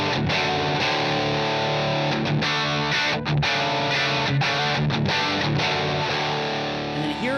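A heavily distorted electric guitar plays the chorus chord progression of a song without embellishments, in thick, sustained power chords with a few brief choked gaps, loud and steady with no voices.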